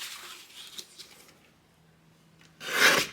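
Red cardstock edges on a Valentine's card are trimmed, with soft scraping and rubbing strokes near the start, a quiet pause, then a louder rasping cut at the end, close up with no voices.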